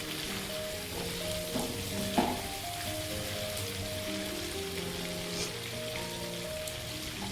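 Stuffed brinjals in spiced masala curry simmer and sizzle steadily in a pan, a continuous soft bubbling hiss with a few faint clinks, no voices.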